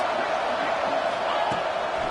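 Fans fill a college football stadium during a Cowboys and Kansas State game, a broad, distant roar of cheering that runs throughout, with a single sharp thud cutting through midway.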